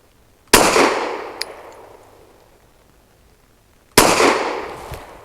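Two sharp, loud pistol shots from a Saricam S-19 firing Fiocchi 147 grain hollow point rounds, spaced several seconds apart, each with a crack and a fading outdoor echo.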